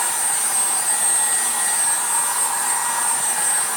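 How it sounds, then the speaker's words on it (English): Harbor Freight heat gun running on its low setting while it dries a chalk transfer, giving a steady, loud, close blowing whoosh with a thin high whine that holds evenly from start to finish. "This just happens to be a heat gun that I picked up over at Harbor Freight. Turn that on low."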